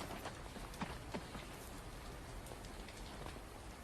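Steady rain falls outdoors, a soft even patter of drops on surfaces with occasional louder splashes, faint and continuous with no voices.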